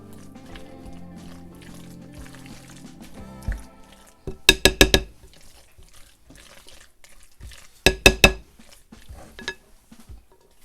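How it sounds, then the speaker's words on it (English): Deviled egg filling mixed together in a bowl, with faint background noise, then two loud bursts of quick, sharp clinks and scrapes of a utensil against the bowl, close up and without talk. "we're just going to mix that all together"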